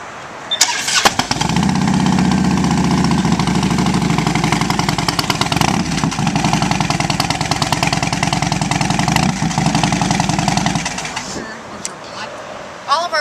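A 2007 Harley-Davidson FLHTCU Ultra Classic Electra Glide motorcycle starts up and idles loudly and close by with a steady, lumpy V-twin rumble for about ten seconds, then cuts off.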